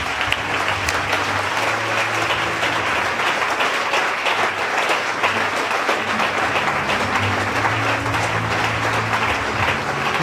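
Congregation applauding steadily in a church during a Sunday worship service, a dense, continuous wash of clapping hands with a low murmur of music or voices underneath throughout.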